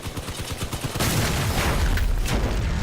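Gunfire in the vehicle combat game Crossout: a rapid rattling burst of machine gun shots, then heavy, dense booming fire that fills the rest of the clip, loud and close with no talk.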